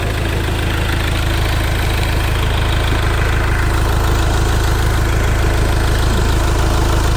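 A 2014 Iveco 35-130 diesel van engine idles with engine flush added to the oil, a steady low rumble with a faint knocking texture running unbroken and close throughout.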